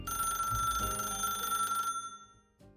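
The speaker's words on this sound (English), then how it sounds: "the phone rang just as I was about to dig in" A telephone rings with a bright, sustained electronic bell tone that holds for about two seconds and then cuts off, followed by a soft click, with no voices present.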